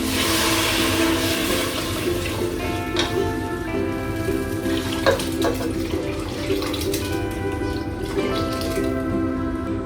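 Water pours steadily into a pot of soaked rice for nonbu kanji, a continuous close splashing rush with no breaks and no talk.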